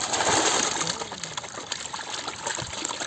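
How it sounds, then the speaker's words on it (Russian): Water gushes steadily into a basin being filled for sorting fish, a loud continuous pouring splash with no talk over it. "Воду в тазик набираем, туда рыбу ложим."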